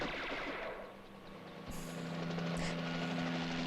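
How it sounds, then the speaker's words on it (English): A helicopter in the film Pumaman makes a droning rotor and engine hum that swells and holds steady, with a couple of sharp bangs breaking through partway. "An helicopter!"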